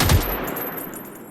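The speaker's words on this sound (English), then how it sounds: "They've corrected a sound effects issue that would occur when burst firing the AI." A short burst of automatic gunfire from hostile AI robots in the video game Generation Zero, one loud close shot cluster up front trailing into a fading echo, with no talk.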